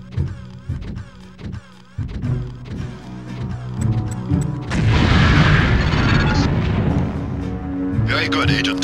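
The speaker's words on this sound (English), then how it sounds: "If you aren't close enough, the LAM will fall to the ground and detonate" A LAM explosive detonates in Deus Ex, a loud broad boom around the midpoint that rolls into a sustained roar of debris and rumble, preceded by game sounds and a voice speaking.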